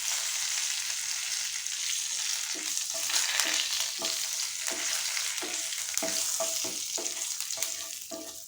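Cumin seeds and bay leaves fry in hot oil in a pan with a continuous sizzle, punctuated by repeated spatula scrapes and taps at an irregular pace, close and without speech.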